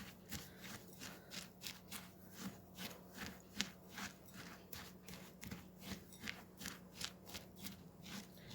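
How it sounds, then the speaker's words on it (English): A spoon stirring a thick dip in a bowl: soft, rhythmic scraping and dull clicks repeating about twice a second, quiet and close, with no voices. "So you're going to stir that around and get it all nice and combined."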